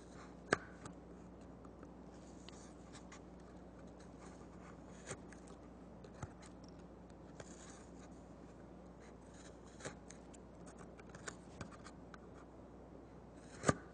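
A knife whittling wood for stop cuts and chip removal, quiet scattered scraping ticks and occasional sharper snaps spread irregularly over a faint background hum, close and soft.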